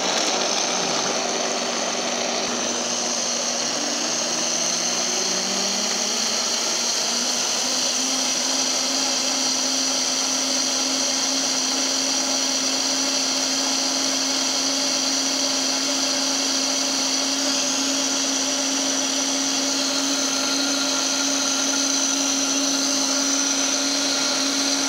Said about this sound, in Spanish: Y ahora simplemente vamos a licuar todo junto.